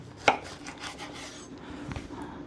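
A knife cuts through an heirloom tomato on a board with one sharp close stroke, then a softer slicing rub, quiet with no voices.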